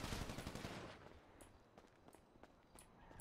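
Video game gunfire: a burst of rapid shots at the start, then scattered sharp single cracks spaced through the rest, fairly faint with a quiet background.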